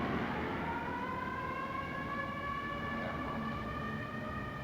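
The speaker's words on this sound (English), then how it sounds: "The siren is making me feel very uneasy." A wailing siren from the 1954 film Rear Window rises and falls steadily at moderate distance, with several tones sliding slightly downward over a constant background hum, heard alone without speech.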